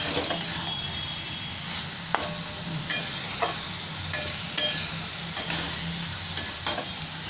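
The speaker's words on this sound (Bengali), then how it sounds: "একসাথে ভালো করে ভেজে নিচ্ছি।" Peas and potatoes fry together in a pan, a steady close sizzle with a few sharp scrapes and clacks from stirring scattered through.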